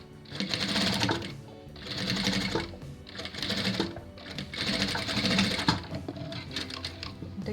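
A domestic sewing machine stitches fabric strips for a bubble puff quilt together in several steady runs of rapid mechanical chatter, close up, with short pauses between seams and no talk.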